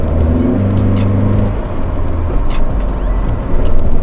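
A 1999 Honda Integra engine, stock with nearly 200,000 miles, revs up toward its limiter, a loud close cabin roar that climbs and swells with rising pitch before a final surge.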